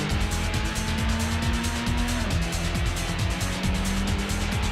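A race car drifts in Gran Turismo, the engine droning with a shifting pitch while tires squeal in repeated sliding bursts through the corner.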